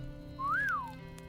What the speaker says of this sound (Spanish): Holmes silbó.